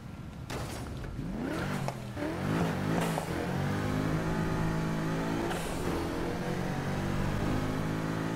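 A car driven in the racing game Need for Speed Heat, its engine revving up and down through rising and falling pitch sweeps, steady and fairly close with no talk.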